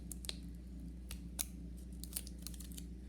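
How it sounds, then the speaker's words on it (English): Safety scissors cutting through tape give several sharp, quiet snips spaced irregularly over a low steady hum, with soft crinkling of the tape between cuts. "Right here, we'll tape it and cut the excess tape"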